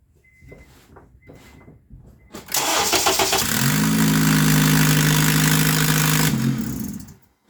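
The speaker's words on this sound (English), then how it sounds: "you want to see what a car sounds like without an upstream O2 sensor" Acura/Honda engine running with the upstream O2 sensor removed: after a few quiet clicks it starts and settles into a loud, raspy, steady drone close by, then cuts off abruptly.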